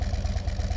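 A 2024 Harley-Davidson Street Glide with a Tab Performance exhaust idles nearby, a deep, steady low-end rumble pulsing in an even, loping rhythm throughout.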